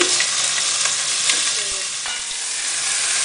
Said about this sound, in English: Let's put in about 1 tablespoon of olive oil and just start chucking in